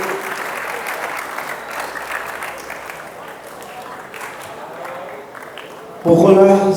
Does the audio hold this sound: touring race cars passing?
no